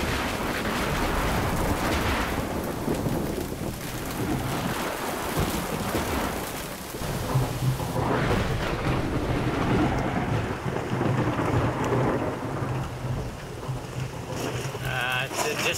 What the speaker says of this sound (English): Just had a tropical thunderstorm.